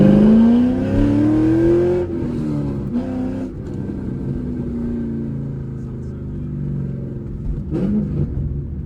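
Cammed C5 Corvette with straight-piped exhaust driving, its loud raspy engine rising in a steady rev before settling into a rumbling cruise, close and continuous, with a voice briefly talking over it.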